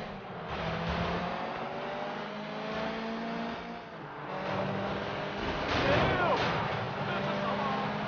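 Street racing cars in Sleeping Dogs, engines roaring and revving steadily with shifting pitch, a dense loud drone with bursts of crashing and bangs, a voice talking underneath.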